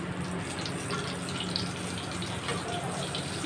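Chicken-stuffed chillies dropped into hot oil, a steady, even sizzle and hiss of frying that holds at the same level throughout, close by with no voices.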